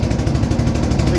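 Steady, loud low drone of a boat engine on the Padma river, a continuous mechanical rumble with no breaks over a short stretch.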